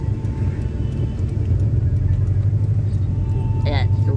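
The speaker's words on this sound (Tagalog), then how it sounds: "Ayan, super traffic." Heavy road traffic droning steadily from inside a car, a constant low rumble of engines with people talking over it throughout.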